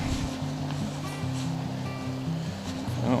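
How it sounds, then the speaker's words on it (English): Continuous roar of rushing water from a small riverside waterfall, normally a 2 to 3 foot drop, heard up close as a steady broadband wash with a low rumbling undertone. "That waterfall right there is normally about a 2 to 3 foot drop"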